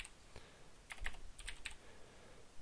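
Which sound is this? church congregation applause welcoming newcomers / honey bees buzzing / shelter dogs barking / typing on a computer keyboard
typing on a computer keyboard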